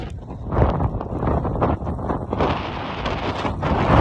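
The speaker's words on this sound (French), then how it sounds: "Oh le vent les gars." Gusty wind thumps and rumbles against the microphone while riding a NAVEE N65i electric scooter at sunset, rising and falling in uneven bursts throughout, loud and close.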